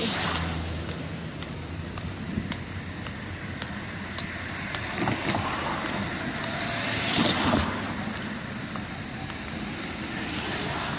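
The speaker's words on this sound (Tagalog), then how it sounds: "Traffic ngayong araw na to, bakit kaya?" Steady road traffic noise fills the scene, a continuous broad roar of passing vehicles with occasional small clicks and a slight swell near the end, and no one speaking.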